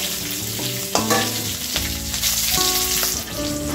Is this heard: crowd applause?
no